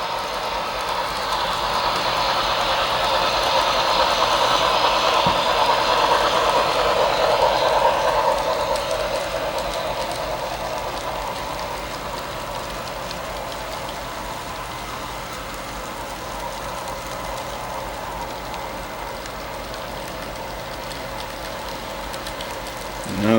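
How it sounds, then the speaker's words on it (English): A doubleheaded model train on the Shenandoah & Western model railroad runs along the layout and into a long tunnel on a steep grade, a steady whirring rumble that swells early, then softens and turns muffled as it enters the tunnel, continuing faintly. "Now the train is entering the long tunnel, which also contains one of the steepest grades on the railroad"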